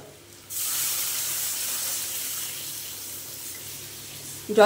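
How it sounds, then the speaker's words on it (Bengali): Water pours in a steady rushing stream into a pan of sautéed rice with pumpkin, loud and close after a brief quiet start, with no voices. "বন্ধুরা এখানে আমার চাল দিয়ে কষা হয়ে গেছে, এবার দিয়ে দেব জল"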